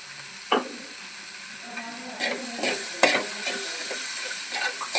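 Okra tamarind curry being stirred in a pan, a steady sizzle with a few scraping spoon strokes against the pan, close and alone.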